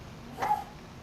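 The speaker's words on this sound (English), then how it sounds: "Sorry about the dogs." A dog gives one short, faint bark partway through, somewhere in the background of an otherwise quiet room, with nothing else around it.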